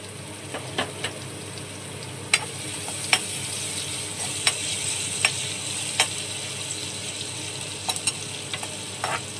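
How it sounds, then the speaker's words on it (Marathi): Garlic, ginger and finely chopped green chili fry in hot oil, giving a steady close sizzle punctuated by sparse clicks of a spatula against the pan. "हे सगळं आपण आता व्यवस्थितपणे फ्राय करून घेऊया"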